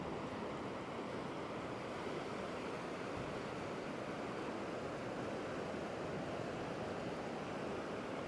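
Gentle surf on Klong Prao Beach, Koh Chang Island, in the morning, a faint, even wash of breaking waves with a constant soft hiss and no distinct individual crashes.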